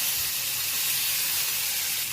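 Pieces of rui fish fry in hot oil, a dense steady hiss and sizzle holding at an even level throughout, no voices.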